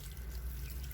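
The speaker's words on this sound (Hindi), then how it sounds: "तो ऐसे मैंने पानी दे दिया" Water poured onto potted iceflower plants makes a steady, close splashing trickle, continuous and alone for a brief moment.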